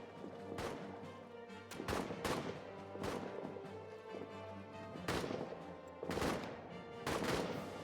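Video-game gunfire from a trench firing line in All Quiet in the Trenches, with bursts of rifle and machine-gun shots cracking in irregular volleys, some close and sharp, others more distant, over a steady low rumble.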